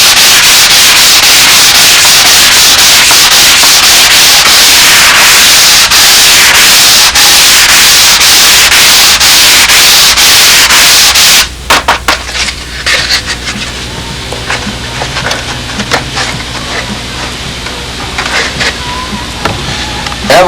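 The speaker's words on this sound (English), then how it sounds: "This is a sanding belt that's glued down." Harsh, continuous rasping of a glued-down sanding belt worked over aircraft turtle-deck and tail parts for a Spitfire replica, loud and close, with rapid back-and-forth strokes that give way to quieter, scattered scraping and rubbing.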